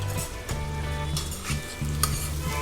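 Bottle gourd curry fries in oil with chili powder, garam masala and coriander powder. A steady close sizzle carries through, with brief louder bursts as the pan is stirred.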